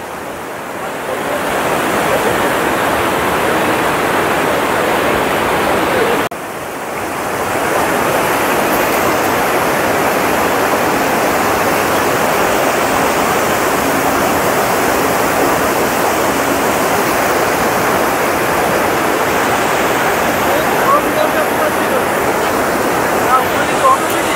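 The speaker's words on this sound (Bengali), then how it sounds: "তোমরা দেখতেই পাচ্ছ যে কি সুন্দর ধোয়া উঠছে, আর জলের স্রোত কি।" Hot spring water at Manikaran rushes steadily in a loud, continuous broadband roar close by, with one brief dip partway through and no clear voices over it.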